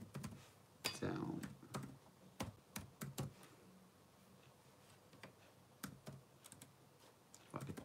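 Computer keyboard typing, a scatter of sharp key clicks in short irregular bursts, fairly close, with a voice talking at times in the background.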